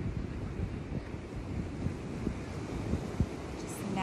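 Ocean waves wash and break in a continuous low rumble, faint and steady for the whole stretch, blended with wind noise on the microphone.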